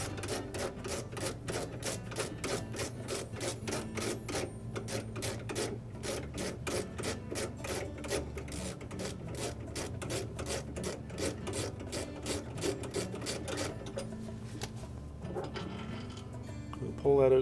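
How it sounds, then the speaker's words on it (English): Steady, rapid ratcheting of a wrench removing a 3/8 leveling bolt from a Whirlpool refrigerator, a dense run of repeated clicks lasting several seconds at close range and moderate loudness, trailing off near the end. "we need to completely remove that bolt"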